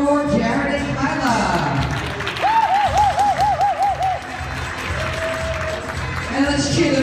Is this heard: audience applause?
yes